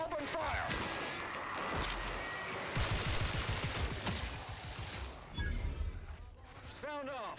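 Sustained gunfire in The Outer Worlds 2, a dense crackling barrage with heavier bursts around the middle, mixed with in-game voices shouting.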